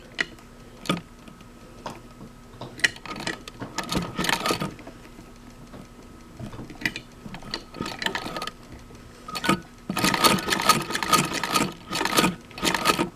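A vintage sewing machine stitches a quarter-inch-thick leather belt in irregular mechanical bursts of clicking and whirring. It pauses between runs, then breaks into a longer, louder continuous stretch near the end.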